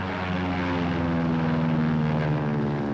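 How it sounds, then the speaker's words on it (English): Propeller-driven military training airplanes drone steadily at an airfield while practicing short-field landings and takeoffs, a continuous loud engine hum with layered harmonic tones and no speech. "these planes are practicing short field landings and takeoffs"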